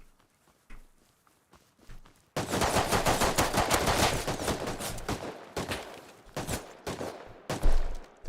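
Rapid automatic gunfire in a shooter video game: after a couple of quiet seconds with faint clicks, a loud burst of fast, continuous shots rattles on for about four seconds, then breaks into scattered single shots and a final heavy thump.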